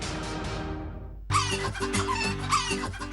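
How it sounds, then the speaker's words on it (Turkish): A chicken clucks repeatedly in loud, close bursts, the calls running together over a steady low hum. "Bu tavuğun konumuzla bir alakası yok."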